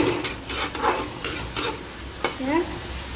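Fiddlehead fern greens stir-fried in a pan on a gas stove make a steady sizzle, with a few soft scrapes and clinks of a spatula against the pan, and nobody speaking.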